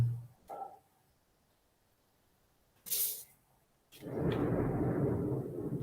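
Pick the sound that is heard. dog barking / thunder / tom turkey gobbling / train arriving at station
thunder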